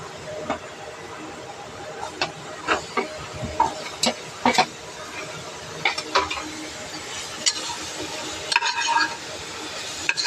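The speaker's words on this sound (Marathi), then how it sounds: "ह्याच्यामध्ये गूळ टाकूया" Jaggery stirred into grated coconut roasted in ghee with cinnamon, a spoon scraping and clicking against the pan in irregular bursts over a low background hiss.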